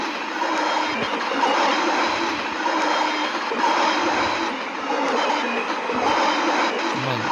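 Inside a train ride at a children's driving school, a continuous rumbling rail-car noise runs steadily with mild swells in loudness, close and fairly loud, with no one talking over it.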